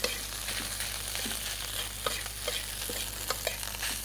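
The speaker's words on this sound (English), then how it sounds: "And really stir this up." Rice being stirred and fried in a pan for Indonesian nasi goreng, a continuous sizzle with intermittent scraping of the spatula, close and steady with no speech.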